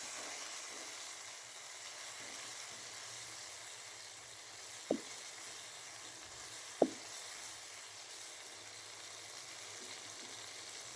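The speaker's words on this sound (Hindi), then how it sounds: "अब करूँगी इसको मिक्स।" A tomato, red chili, white cumin and chaat masala mixture is stirred in a hot pan for a bhindi keema dish, sizzling steadily throughout, with two sharp taps of the spoon against the pan.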